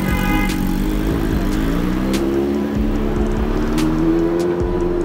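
At a big-bike club workshop meetup, a BMW motorcycle engine idles and then revs up, its pitch rising over a steady rumble, with faint clicks and crowd noise in the background.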